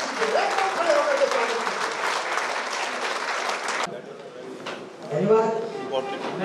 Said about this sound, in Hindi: जोरदार ताली होनी चाहिए और जोरदार ताली, खड़े होकर खड़े होकर